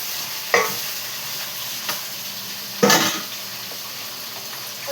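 Tomatoes go into a curry pan and get stirred, a steady low sizzle broken by a few sharp spoon-on-pan scrapes and clinks, with one louder clatter near the middle.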